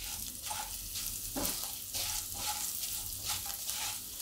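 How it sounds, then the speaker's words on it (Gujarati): Coriander and whole spices roast in hot oil for a Gujarati dal premix, sizzling and crackling steadily up close while being stirred now and then, with no voices. "બધું એકદમ શેકી લેવાનું આ રીતે. આપણે ધાણા છે એમાંય થોડું ઘણું મોઈશ્ચર રહેશે તો આમાં નીકળી જાય એમ તેલમાં."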